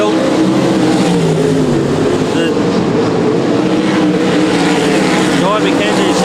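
Limited sprintcars race around a dirt track, engines wound up and howling loudly as several cars pass, with a race commentator talking over the roaring, shifting engine noise.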